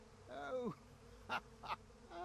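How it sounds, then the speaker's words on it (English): A bee buzzes in the video game Psychonauts 2 in a few short, warbling bursts with falling pitch. The bursts are separated by brief pauses and sound moderately close. "Hey, would you like a bee again?"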